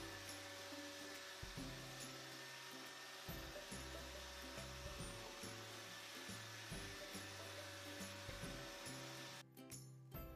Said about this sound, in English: Some examples of robots that have been designed with this in mind include robot vacuum cleaners,